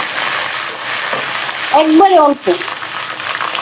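Ginger paste sizzling among browned onions in a hot pan, a steady broadband hiss and crackle with a brief stir and someone speaking over it.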